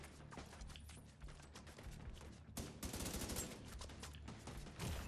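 Turret fire from The Division 2, rapid bursts of gunshots mixed with a dense game firefight that swells louder partway through, with no talk.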